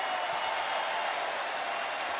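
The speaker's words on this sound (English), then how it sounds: "And the celebration here from the Garden crowd here in the final seconds" The Madison Square Garden crowd roars in celebration during the closing seconds of a Knicks playoff win over the Pistons, a dense, steady wash of distant cheering and applause.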